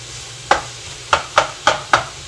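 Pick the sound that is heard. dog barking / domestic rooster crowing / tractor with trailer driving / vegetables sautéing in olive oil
vegetables sautéing in olive oil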